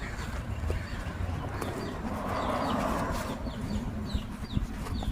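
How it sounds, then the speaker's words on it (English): Young chicks, likely crow chicks, calling from trees outdoors, faint chirping and begging calls scattered over a busy background of birds and outdoor noise, no talk. "I hear chicks back there."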